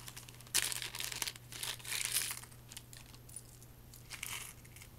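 Crisp crinkling and rustling of a small plastic jewelry bag being handled, in several bursts over a steady low hum, close and fairly quiet.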